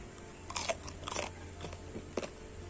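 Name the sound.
biting and chewing a crispy fried snack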